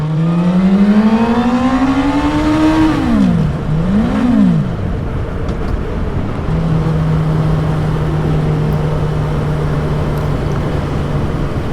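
A Suzuki GSR600 motorcycle with standard exhaust revs up and down through rising and falling pitch sweeps, then settles into a steady drone, with heavy wind rush throughout.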